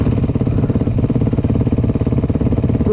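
A loud, close scooter engine labors at a steady, throbbing pitch throughout, sounding strained under load.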